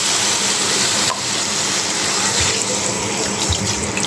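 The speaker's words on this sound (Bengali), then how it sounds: "এখন আমি জলটা দিয়ে দিব।" Water pours from a tap into a cooking pan of potatoes, fish and tomato on a gas stove, a loud continuous gushing flow that runs for the full few seconds with a slight shift partway through.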